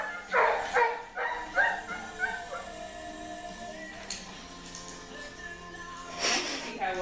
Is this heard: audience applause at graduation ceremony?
no